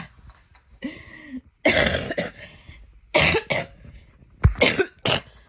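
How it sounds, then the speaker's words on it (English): Several harsh coughs come in separate bursts with short pauses between them, close and fairly loud. "I got a bad cough that I'm trying to get rid of"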